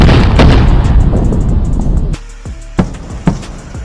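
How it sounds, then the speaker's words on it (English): Sonic booms from returning rocket boosters: a heavy rumbling boom fading out, then sharp thudding cracks in quick succession, loud and distant-sounding outdoors with no talking. "And when this happens, it creates sonic booms."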